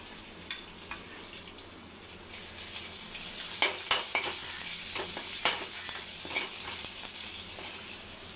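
Cumin, garlic and green chilli fry in a pan with a steady soft sizzle, and sharp scrapes of a stirring spoon come more often in the second half.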